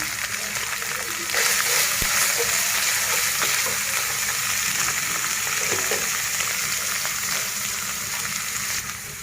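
Chicken frying in a pan with salt and chilli powder, a loud steady sizzle with scraping and stirring throughout and faint clatter, with no clear talk.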